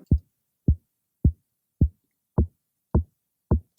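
Seven dry, punchy kick drum sample hits with the plugin bypassed, at a steady even pace, alone with silence between each thump.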